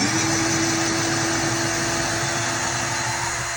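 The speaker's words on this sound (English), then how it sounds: "So drilling through this stuff is definitely a challenge." A power drill bores through hard pecan hickory wood, a loud continuous whine and grinding held steadily for several seconds before stopping, with no talk over it.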